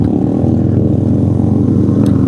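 KTM Duke 200 motorcycle engine droning steadily while riding, a loud continuous buzzing hum at cruising speed with no talk.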